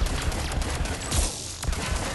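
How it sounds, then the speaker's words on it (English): Phalanx pistol shots hammering a mech's shield in Mass Effect 3, a rapid burst of sharp, loud reports in quick succession over busy combat noise. "So right now, I'm just trying to remove his shield with the Phalanx pistol"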